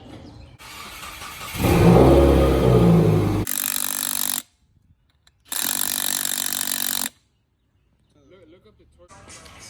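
A car engine cranks and starts, then revs loudly in two bursts separated by brief silence; a voice is briefly heard at the end.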